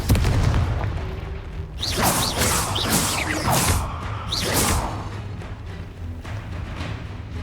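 A Confringo spell in Hogwarts Legacy bursts with booming blasts and whooshes, several hits in quick succession over a rumbling background.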